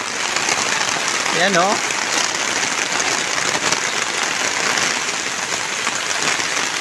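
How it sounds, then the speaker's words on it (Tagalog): Heavy rain pours steadily over a backyard near the Marikina River, making a dense, constant hiss, and someone briefly speaks over it. "Halos walang tigil ang ulan"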